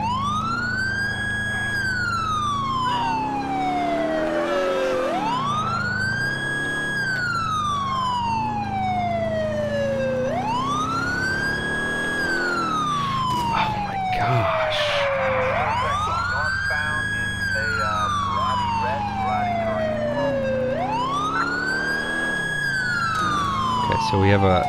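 A police car siren wails during a pursuit in the video game LCPDFR, sweeping up and down in a steady repeating cycle for the whole stretch, loud and close over a constant engine rumble.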